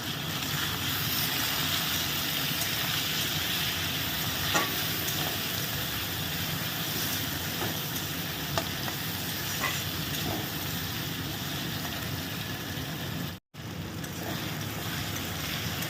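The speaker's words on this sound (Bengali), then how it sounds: "সুন্দর করে লো ফ্লেমে আস্তে আস্তে করে পুরো জিনিসটাকে কিন্তু ভেজে নিচ্ছি" Cabbage paste with turmeric and tomato fries on a low flame, a steady close sizzle and hiss with faint stirring scrapes, cut by one brief gap near the end.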